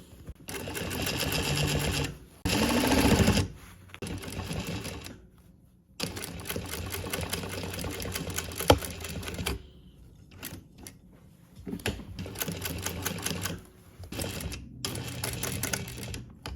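Sewing machine stitching the waistband of a camp coat along a serged edge, running in bursts of rapid mechanical stitching separated by short pauses, close and steady.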